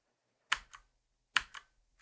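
Keyboard shortcut keys on a computer are pressed in two quick pairs of crisp, close clicks separated by silence, with no talk.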